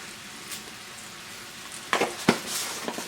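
Pieces of Hunan chicken frying in oil, with a steady soft sizzle throughout and a few louder crackles and stirring scrapes near the end.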